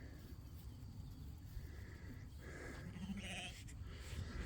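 A ram bleats on a farm pasture set up for rotational grazing, with a few short calls standing out over steady outdoor background noise and some farm-animal movement.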